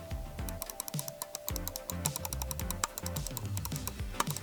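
Quick, sharp mouse clicks tap out in an uneven rapid series, close and crisp over a low hum.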